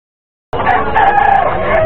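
A black kawayan rooster lets out a single loud, close crow that bursts in after a brief silence and holds strong and sustained to the end.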